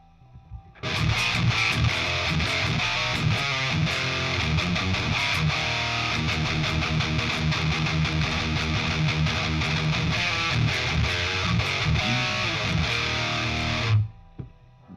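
A heavily distorted electric guitar played through an amp simulator plays a thick, sustained riff for about thirteen seconds, loud and saturated, then cuts off abruptly.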